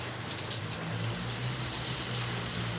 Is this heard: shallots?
no